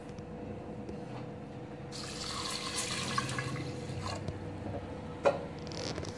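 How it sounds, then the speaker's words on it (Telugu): Toor dal is washed in water, with soft sloshing, swishing and trickling close by and a few small splashes, quiet and unhurried with no talking. "ఫస్ట్ ఇది పప్పు వేసి వాష్ చేసేసుకుందాం"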